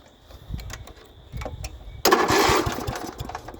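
A riding lawn mower cranked with a jump starter, a few clicks and a short cranking attempt, then the engine catches abruptly and runs loud and close with a rough idle, no voices.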